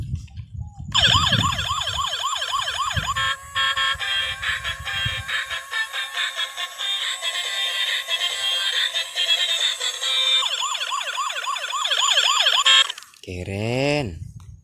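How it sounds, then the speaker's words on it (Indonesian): A yellow toy police patrol car's siren wails continuously in rising-and-falling sweeps, loud and close, over faint low background sound, ending with a short upward whoop. "Yang ini mobil polisi patroli juga. Berwarna kuning, dilengkapi dengan lampu sirine."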